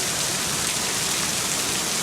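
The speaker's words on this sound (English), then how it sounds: "Extremely hard rain." Extremely hard rain pouring and streaming off a house roof, a loud, unbroken hiss and splatter of water close by, with no voices.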